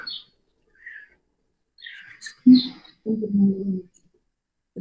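Small birds chirp outdoors in a few sparse, faint, high tweets, followed by a brief, lower, nearby vocal sound and a short buzzing call.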